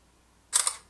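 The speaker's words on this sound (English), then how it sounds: "you get a little countdown and it'll take this picture for you" A Samsung Galaxy Note 4 camera fires its shutter after a countdown, a single sharp electronic click-snap in near silence, loud and close.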